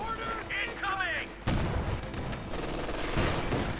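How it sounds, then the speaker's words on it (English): Company of Heroes 2 machine gun fire: someone commentates briefly, then dense, sustained rattling bursts of gunfire and battle noise take over and continue steadily. "quickly being forced back with the grenadiers by that machine gun"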